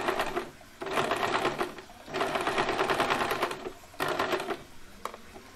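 A sewing machine stitches elastic into a small cotton frock for a Laddu Gopal summer dress, running in four loud, close bursts of rapid needle clatter separated by brief pauses.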